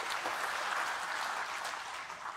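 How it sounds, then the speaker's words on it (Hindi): An audience at a medical motivational talk applauds, a dense, even wash of clapping that stays steady and fairly loud for a couple of seconds. "ताली बजाओ उनके लिए जोर से"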